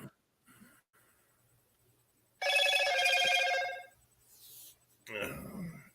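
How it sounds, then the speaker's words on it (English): A telephone rings in a short burst of repeated bright electronic chirps, loud and close, followed by a brief voice. "Now see, that's Samantha calling"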